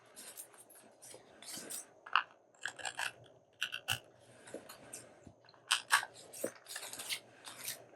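Scissors trim around the corners of a postcard for journaling. Quick, quiet paper snips come close up in irregular clusters with short pauses between cuts.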